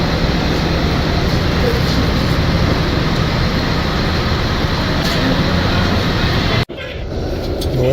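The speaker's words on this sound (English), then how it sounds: "There's noise. You're at a bus station." Bus station ambience in Mexico: a loud, steady rumble of vehicles and engines holds constant, then cuts off briefly. A voice is faintly audible beneath it.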